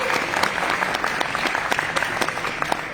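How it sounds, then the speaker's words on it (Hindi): A business event audience in Dubai claps loudly, with close, dense, rhythmic applause and some sharp individual claps throughout. "आप सब लोगों के लिए जोरदार तालियां"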